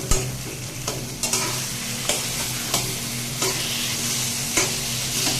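Taro greens stirred and fried in a pan with a metal spatula, steady soft sizzle under periodic scraping strokes of the spatula against the pan, close and moderately loud, no talking.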